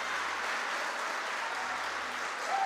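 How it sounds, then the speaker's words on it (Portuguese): A church congregation applauds, a dense, even wash of clapping from many hands at moderate distance, sustained without pause for a few seconds. "Nessa hora você poderia aplaudir ao Senhor."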